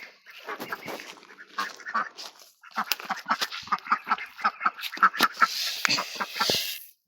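Ducks quacking at an evening feeding alongside chicks, with a busy, overlapping run of nasal quacks and honk-like calls, close and fairly loud, building toward the end with a brief rush of noise.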